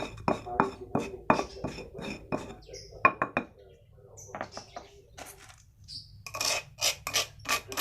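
Fishing bait mixture for freshwater fish stirred in a bowl gives a rapid series of close, loud clinks and scrapes of utensil against bowl, pausing briefly midway before another fast burst of knocking.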